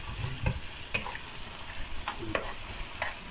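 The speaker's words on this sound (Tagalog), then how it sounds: "lutuin lang natin ang ating mga aromatics mga langga" Aromatics sautéing in oil for Filipino ginisang alamang, a low steady sizzle broken by several sharp stirring scrapes of the utensil against the pan, close and fairly quiet.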